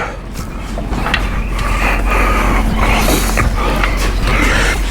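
A Conestoga trailer's fabric cover mechanism creaks and groans steadily as it is drawn closed, loud and close with rattling, scraping mechanical noise throughout.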